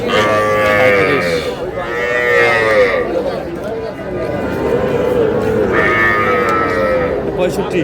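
Cattle, including Sahiwal bulls, low repeatedly at a livestock market in Noakhali. Several long, drawn-out moos rise and fall close by, amid people talking.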